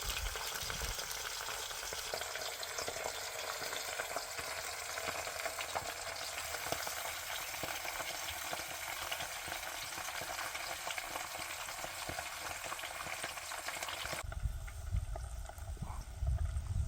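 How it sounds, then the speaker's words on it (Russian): Potatoes fry in a pan outdoors, giving a loud, dense, continuous sizzle with crackling spatter, steady for most of the stretch before it drops sharply into a duller, lower rumble near the end; no talk. "Как шипит, уже с корочкой."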